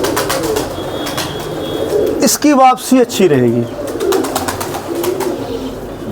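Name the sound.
pigeon cooing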